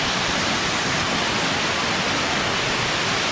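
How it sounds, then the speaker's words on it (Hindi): Songudha waterfall rushes with a loud, dense, unbroken roar of falling water, close and steady throughout with no voices. "तो कितना सुंदर वाटरफॉल है"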